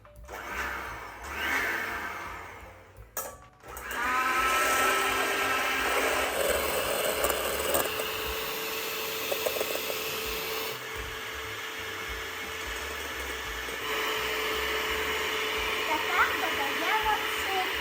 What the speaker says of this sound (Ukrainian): А за цей час я зроблю з білків міцну піну.